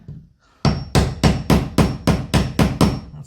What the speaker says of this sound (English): you want to just crack this grout up and around here